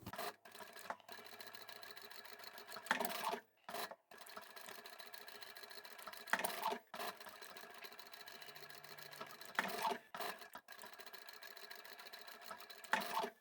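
Sewing machine stitching the side seams of a fabric zippered boxed pouch, running in steady close bursts broken by short pauses and louder handling rustles.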